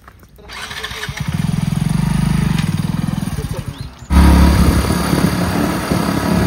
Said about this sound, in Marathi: आता जाऊ आपण बाईक काढून इकडं